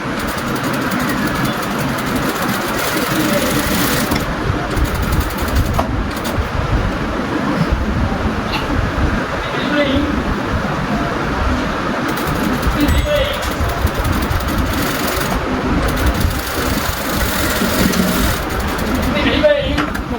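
A sewing machine runs steadily as it stitches fabric, a continuous close mechanical whir and rattle heard beneath someone talking throughout.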